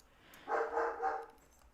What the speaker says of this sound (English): And the dogs are about to bark.